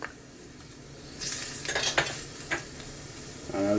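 Onion and garlic sizzle in a hot pan while ackee with shrimp is cooked, with a steady low frying hiss, clinks of utensils and stirring scrapes rising in the middle.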